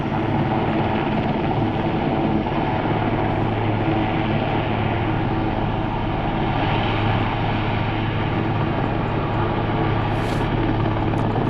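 A helicopter flies nearby while setting down a load, a continuous loud rotor and engine roar holding steady throughout, with no one speaking over it.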